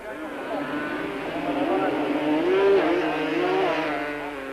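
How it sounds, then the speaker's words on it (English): Yamaha Banshee quad bikes race in a 1997 quad racing series, engines droning and revving with rising and falling pitch as they charge around the course, heard steadily from a moderate distance. "Breckel was going to have to draw on all his skills to hold off the charging Yamaha Banshee rider"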